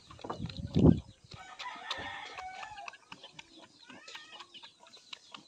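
A rooster on a rural Philippine farm crows with broken, warbling calls amid scattered clucks and chicken noises, moderately close but fairly quiet, with a sharp burst near the start.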